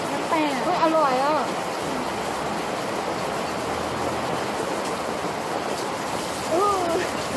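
Steady rain pouring down outdoors, a dense broadband hiss throughout, with a voice briefly heard at the start and near the end.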